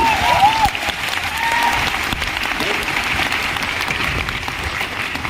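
Steady, loud applause from a sizable crowd, continuous clapping throughout with some vocal noise mixed in.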